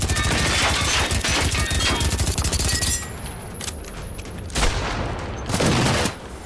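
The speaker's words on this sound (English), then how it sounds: "Fine, take a Glock to the face." Glock pistol gunfire in a video game: a loud, rapid burst of repeated shots at close range, then a pause and a few more separate loud shots.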